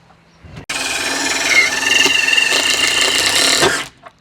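A power drill drives a self-drilling hex head screw, a loud continuous whirring grind of about three seconds that starts abruptly and cuts off sharply, close by with no talk.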